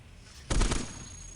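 Cannon fire in the robot roguelike Cogmind, a single loud close blast with a rough crackling body lasting about a third of a second, standing alone against quiet background.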